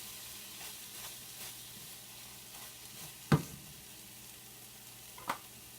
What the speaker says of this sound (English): The cheese has completely melted in this nice egg mixture.